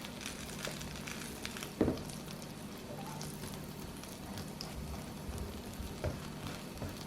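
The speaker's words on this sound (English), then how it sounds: "When I do warm sandwiches, I like to toast the inside of the bread." Bread for a warm sandwich toasts in a pan with a soft, steady sizzle and crackle throughout, broken by a brief clatter near the start and a faint tap later.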